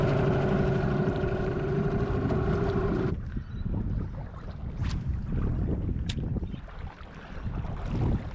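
An outboard boat motor reverses on the Tuross River during a fishing trip. A loud, steady drone lasts about three seconds, then cuts off, leaving quieter wind and water noise.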